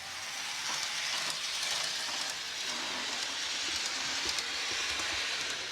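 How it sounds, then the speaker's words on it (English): A Revolution Trains Class 128 model locomotive with a small coreless motor and flywheel runs on DC, giving a continuous, even hiss and whir with faint rail clatter and no pauses. "let's see how the Class 128 performs on DC"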